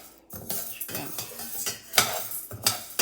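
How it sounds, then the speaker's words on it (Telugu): Toor dal dry-roasting in a pan while a metal spoon stirs it, making close scraping and clinking with light rattling of lentils, in irregular bursts without voices. "ఇది వన్ కప్పు కందిపప్పు అని చెప్పాను కదా అది వేసేస్తున్నాను ఇది వేసి మనం మంచిగా డ్రై రోస్ట్ చేసుకోవాలి"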